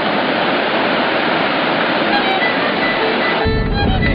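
A Carpathian mountain river in the Hutsul region of Transcarpathia, fed by springs and brooks, roars loudly and continuously as rushing water with no pause.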